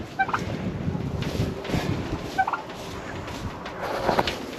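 A tom turkey gobbles inside a coop, two short bursts of gobbling heard fairly close over a faint windy background.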